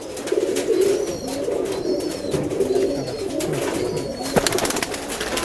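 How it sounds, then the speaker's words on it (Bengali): Rajshahi pigeons at a farm coo repeatedly in soft, rolling calls, several birds close by against a quiet background. "এটা রাজশাহীর অনেক ভালো মানের কবুতর"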